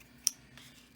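A single quiet snip of scissors trimming vinyl on a mug, close and brief in otherwise near-silence.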